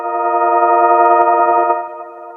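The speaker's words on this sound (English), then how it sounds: "For this sound, I used this source, and it's coming from opening the cassette." A sample taken from opening a cassette, looped and processed into a steady, even tonal drone with faint clicks running through it, loud and close, fading slightly at the end.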